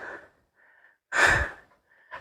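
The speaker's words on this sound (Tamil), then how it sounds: "பொறுமையாக ஏறிட்டு இருக்கோம். பயங்கரமாக மூச்சு வாங்குது." Heavy, labored breathing from a hiker climbing a steep mountain trail at Kondarangi hill: a few soft breaths, then one loud close gasping exhale, with quiet pauses between.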